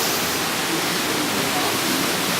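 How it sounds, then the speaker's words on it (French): A constant rushing wash of a small river flowing in Hakone, Japan, steady and fairly loud, with no distinct voices over it. "Une petite rivière là"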